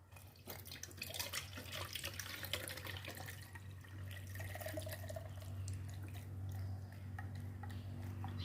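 Kaffir lime peel insecticide liquid strained through a filter, a steady close trickle and patter of pouring liquid with scattered drips over a low background hum.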